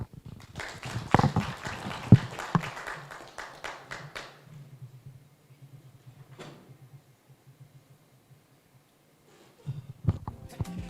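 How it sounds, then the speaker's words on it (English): An audience at the OFAB Kenya Media Awards 2021 gives a round of applause, a burst of dense clapping that thins out and dies away after a few seconds, leaving near silence before a few stray claps return. "Another big round of applause."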